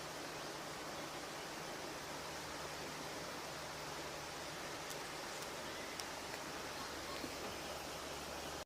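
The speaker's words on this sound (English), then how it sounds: "The sound of that water." Continuous rushing river water on a Black Mountains walk in Wales, a steady broadband flow with no pauses and no talk over it.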